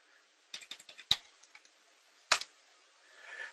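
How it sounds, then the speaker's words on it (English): Typing on a computer keyboard, quiet scattered clicks and a few sharper key strikes in short irregular bursts, close and alone in a hushed room. "if you're going to type it out from the screen"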